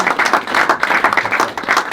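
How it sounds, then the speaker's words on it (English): An audience breaks into hearty applause, a dense, steady wash of many hands clapping up close for about two seconds, with no talking over it. "give the chief a round of applause for all his great work"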